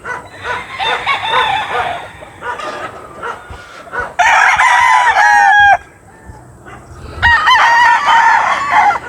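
Gamefowl roosters crow loudly and close by in several long, overlapping cock-a-doodle-doo calls, with some clucking mixed in between the crows.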